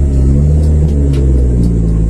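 A car engine rumbles and revs loudly throughout as the driver practices clutch control, with a deep, steady drone that rises and falls slightly, heard close and alone.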